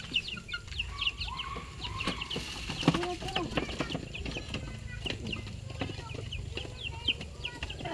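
Chickens clucking and chirping continuously around the listener, with scattered bird calls and faint voices in the background of a noisy farmyard.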